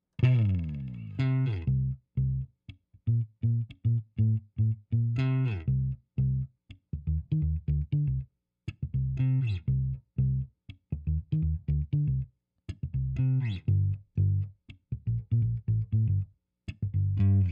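A virtual electric bass from Native Instruments Session Bassist ICON Bass plays short, plucked phrases with rhythmic notes and brief pauses between them, clean and close, with no other instruments.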